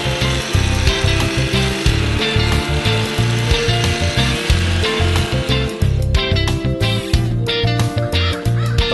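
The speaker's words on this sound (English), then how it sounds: "use that power broom to go ahead and work that sand" A power broom works sand into artificial turf during a synthetic grass installation, giving a loud, continuous, gritty motor roar with rhythmic scraping that fills the whole stretch.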